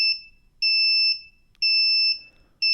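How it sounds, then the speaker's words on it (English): Loud, shrill electronic buzzer tones from active buzzers in a classroom sound in three long pulses, each about half a second, separated by short gaps, with the last one cut off. "The class should be filled with sounds of the buzzers."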